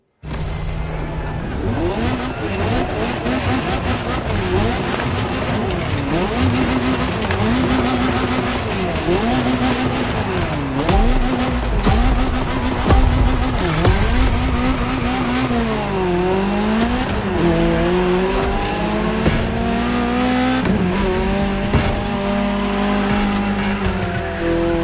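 A GTO supercar races in The Crew Motorfest on PS5, its engine loud and continuous as it climbs and drops through gear changes, with tire squeal and skidding mixed in.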